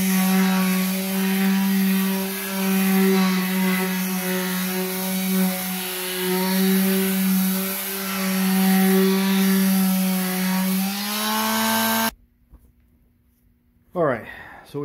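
A power sander works over a rustic wooden sink, a loud, steady droning whine with a rising and falling edge that runs for about twelve seconds, then cuts off abruptly, leaving a brief quieter tail.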